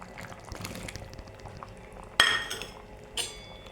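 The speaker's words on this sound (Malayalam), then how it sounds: "ഈ സമയത്ത് നമ്മൾ കുമ്പളങ്ങ ചേർക്കാം." Pieces of ash gourd drop into a simmering chicken curry in a pot, a soft splash and a sharp metallic clink from a spoon or vessel, with quiet bubbling and faint kitchen clatter around it.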